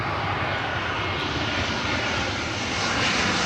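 A jet airliner on final approach to Heathrow runway 27L passes close overhead, its engines roaring loud and steady and swelling slightly toward the end with no talk.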